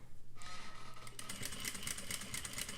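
A sewing machine stitches along the top of a patch pocket flap beside the presser foot, a soft, quick rhythmic whir that picks up into a faster, busier run partway through, with no voices.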